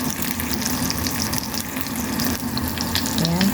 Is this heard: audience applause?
no